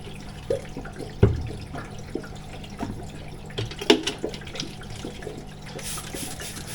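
Water poured onto the aerial roots of a houseplant, with splashes, drips and trickling at close range, irregular and moderately loud, and a brief hissing pour near the end.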